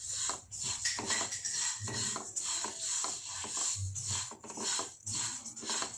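Ragi roasts in a pan while being stirred. Repeated scraping and rustling strokes come in an uneven rhythm, fairly close and at moderate loudness, with no voices.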